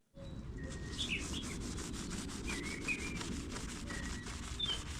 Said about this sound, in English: so I'm going to try scrubbing it by hand here